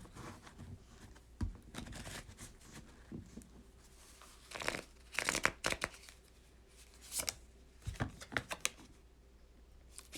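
Tarot cards being shuffled, with repeated bursts of riffling and flicking that come in irregular clusters, close and moderately loud, with no voices over them.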